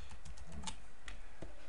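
Light typing on a computer keyboard while setting up a video-editing project in software, several soft clicks in quick succession over steady background noise, near and quiet, with no talking.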